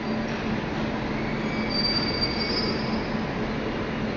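A Mumbai local train rolls into a station platform with a steady rumble of wagons and a drawn-out, high metallic squeal of wheels on the rails.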